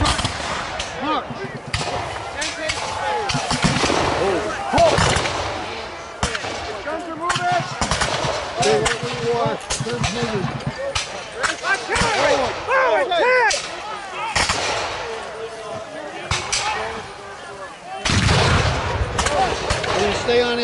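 Musket volleys at a Revolutionary War reenactment battle, rapid ragged bursts of many gunshots crackling on and off outdoors, with shouted commands and voices mixed in.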